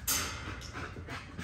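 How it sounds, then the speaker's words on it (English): An XL American Bully dog pants close by in quick, breathy, rhythmic bursts that continue steadily without any talk. "That's a high drive dog, bro."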